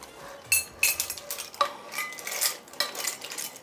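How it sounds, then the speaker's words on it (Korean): Dishes and utensils clink and clatter as steamed clams cooked in soju are served into a bowl: a series of sharp, close metallic and ceramic knocks with scraping between them, and no talking. "그릇에 한번 담아보겠습니다"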